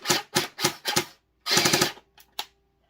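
An SB400 gel blaster fires in short bursts: four quick, loud mechanical rattles, then a longer rapid buzzing burst, then two faint clicks, with clear silence between them.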